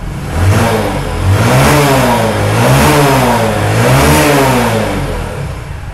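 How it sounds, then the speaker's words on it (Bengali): A motorcycle with a spark plug fouling problem is revved hard several times in a row, the engine note climbing and falling in loud, close surges before easing off at the end. "দেখেন এখন বাইকের টোটাল দিচ্ছি আমি"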